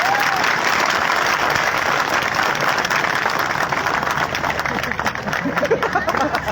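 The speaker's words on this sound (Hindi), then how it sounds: "जोरदार ताली बजा के स्वागत करो।" A village festival crowd gives loud, sustained welcoming applause, a thick wall of clapping that holds steady for the whole stretch.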